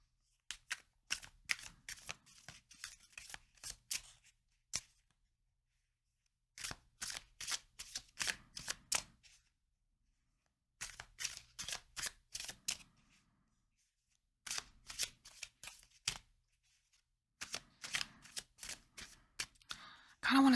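A deck of tarot cards riffle-shuffled in repeated bursts, each a quick fluttering run of card snaps separated by short pauses, close and crisp with no talking.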